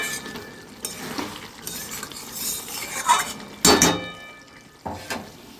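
A spoon scrapes and clinks against a pan as curry is stirred and sautéed, with irregular metallic knocks, a louder clatter midway and a faint sizzle underneath, close and without talk.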